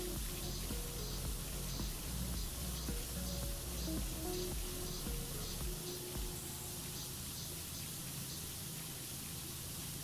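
A pressure washer sprays continuously in the video game PowerWash Simulator 2, a steady, even hiss of water without breaks, heard alone at a fairly low level.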